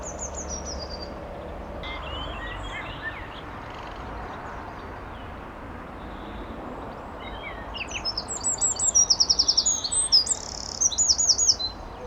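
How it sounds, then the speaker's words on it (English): Garden birds chirp and sing outdoors, with quiet scattered calls at first, then a burst of louder, rapid, repeated tweets near the end over soft background ambience; no talking. "Peace and quiet, bar from the birds."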